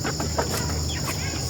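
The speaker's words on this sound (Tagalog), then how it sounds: "Ito ring medyo malalaking manok." Large farm chickens cluck in short, scattered calls over a steady background hum, moderately close, with no talk during the clip.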